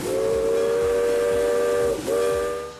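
Steam locomotive whistle at Roaring Camp Railroads, a loud sustained chord-like blast that dips briefly near the end and resumes, heard alone with no talk.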